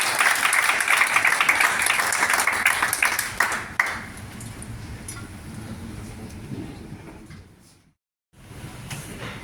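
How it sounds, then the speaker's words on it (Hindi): Applause from the audience at an Agarwal community oath ceremony in Visakhapatnam, Andhra Pradesh: a dense crowd clapping that stays loud for several seconds, then thins out, breaks off briefly and returns. "तालियों में कंजूसी नहीं करना।"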